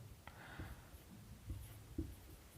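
Marker or pen writing on a board during a physics lecture on friction, faint scratchy strokes and a few soft taps against quiet room tone.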